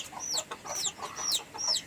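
A chicken clucks close by in a morning farmyard, a quick run of four sharp, rising clucks in even rhythm, fairly quiet and with no other sound.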